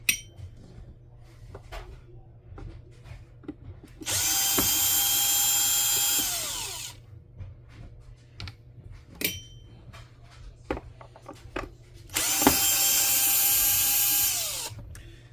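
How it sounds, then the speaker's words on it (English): A power drill set to its lowest speed whirs in two separate bursts of a few seconds each, working on a Bissell CleanView Swivel Rewind Pet Reach vacuum, with quiet clicks and small clinks between them. "this drill is set on the lowest speed settings so that it does not strip out anything"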